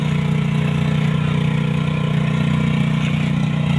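A fishing boat's engine runs alongside a generator at night off Mauban, Quezon, a loud, constant low droning hum that holds steady throughout with no speech.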